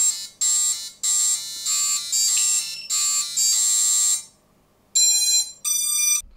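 An FPV drone's ESC plays a custom startup tune after the battery is plugged in: a series of clear, loud electronic beeping notes in a melodic pattern, followed after a short pause by a few more tones.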